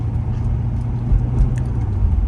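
Steady low rumble of a C7 Corvette's engine from inside the cabin while driving in winter, a constant near drone with road noise and no talking.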